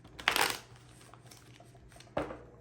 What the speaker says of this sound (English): That was not a good shuffle.